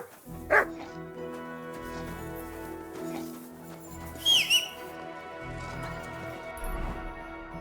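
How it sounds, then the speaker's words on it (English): A dog in Kingdom Come Deliverance 2 gives a couple of short, sharp barks and a yip, near and fairly loud, over a busy game soundscape with background music. "You have a kind master, eh, doggy?"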